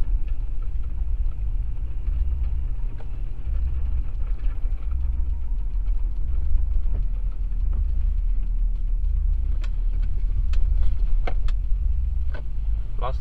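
Front-wheel-drive car on Michelin CrossClimate 2 tires rolling slowly through deep snow, a steady low engine and road rumble holding even throughout with faint crunching ticks near the end, no voices.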